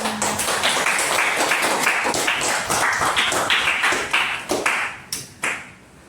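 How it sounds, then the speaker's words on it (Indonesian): Loud, dense audience clapping from many hands at a teacher-training class presentation in Indonesia, a steady wash of overlapping claps that thins into a few scattered final claps near the end. "Berikan tepuk tangan dulu"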